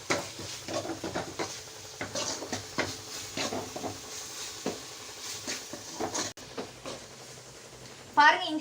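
Ginger garlic paste fries in a pan, making a soft sizzle with repeated scraping and stirring clinks of a spoon against the pan, fairly quiet and close.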